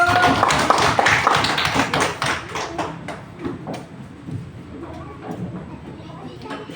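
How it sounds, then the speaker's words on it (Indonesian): Class groups applauding in a university classroom, a burst of many hands clapping that starts loud and dense, then thins out and fades over several seconds. "tepuk tangan untuk"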